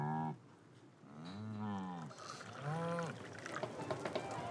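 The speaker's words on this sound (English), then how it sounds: "The cows move in distress." Cattle moo in distress, three long drawn-out lowing calls one after another at mid distance, with trickling water or pouring sounds in the background.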